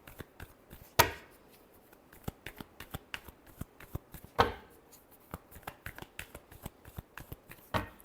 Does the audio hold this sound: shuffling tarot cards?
yes